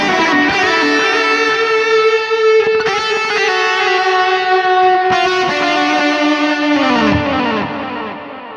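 An electric guitar played through a Mesa Boogie Mark IIC+ amp plugin with reverb rings out in sustained, harmonically rich distorted chords. It is loud and alone, and the last chord changes and decays into a reverb tail.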